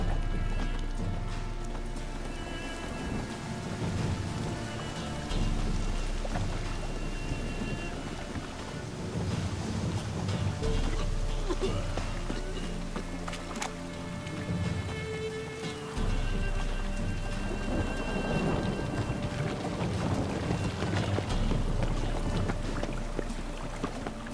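Steady rain hisses throughout in The Witcher 3: Wild Hunt, mixed with game music and occasional clopping hooves, with no talking.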